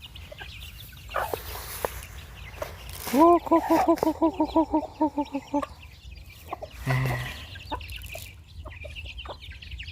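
Chickens at a rural Thai family home cluck close by in a quick rhythmic run of about a dozen calls, with a few scattered squawks around them and people talking nearby.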